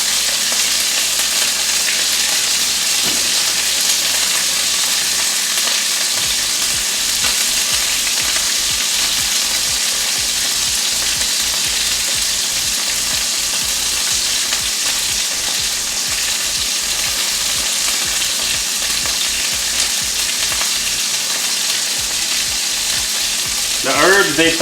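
Beef seasoned with salt and pepper fries in a pan, giving a loud, unbroken sizzle and crackle at close range that holds steady for nearly half a minute.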